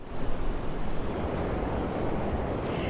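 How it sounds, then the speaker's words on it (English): Rough, angry ocean surf pounds the shore beside condemned beachfront condo buildings, a loud, continuous roar of breaking waves mixed with wind buffeting the microphone, with no voices. "The power of this ocean is incredible."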